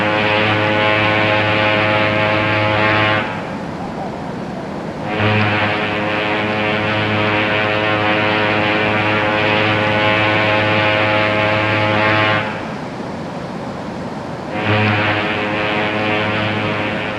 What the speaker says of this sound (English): A lighthouse's foghorn giving warning to ships at sea.